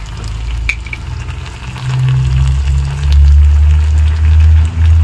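Cabbage manchurian in a pan with tomato, chili and soy sauces, frying with a steady loud sizzle while a utensil stirs and scrapes through it, the sizzle swelling louder toward the end.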